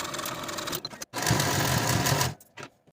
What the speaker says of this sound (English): Sew all 3 ruffle seams with a 5/8 inch seam allowance and then finish your seams.